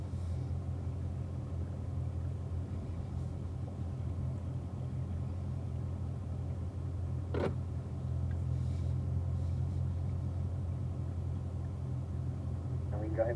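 Corvette cars rolling out onto a track produce a steady, low engine rumble that stays constant, with a brief sharp click partway through and no clear talk.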